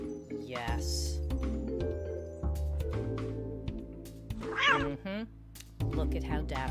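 A black kitten in the video game Konrad's Kittens mews in a few short, high cries over a sustained background music track, with a person speaking briefly in between.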